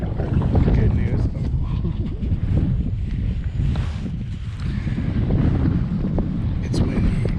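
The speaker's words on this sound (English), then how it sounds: "It's windy. Oh, it's windy." Strong wind buffets the microphone on a kayak out on open water before a storm, a loud, constant low rumble with gusting swells throughout and faint water movement beneath.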